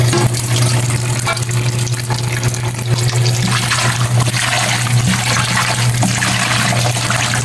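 Water pours steadily into a bowl to wash kangkong (water spinach) in a home kitchen: a continuous close splashing and trickling with a low steady hum underneath, no talking.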